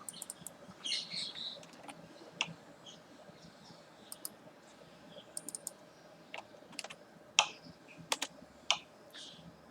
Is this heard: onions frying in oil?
no